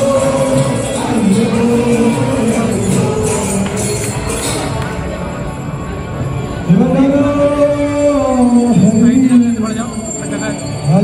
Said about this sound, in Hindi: काफी क्राउड है यहाँ पे भाई, इतना क्राउड है